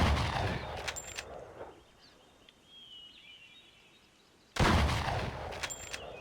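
Two loud, sharp rifle reports ring out in the hunting game Cabela's North American Adventures on the PSP. Each crack decays into a quiet outdoor lull with faint birdsong between the shots.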